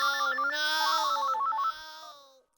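A phone rings with an electronic ringtone after a call is dialed, a bright warbling tone about two seconds long that cuts off and fades.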